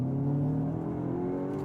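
A Cupra Terramar accelerates hard in its Cupra mode on a country B road, the engine note climbing in a steady, loud rising drone with strong layered harmonics, heard close from inside the car and with no talking.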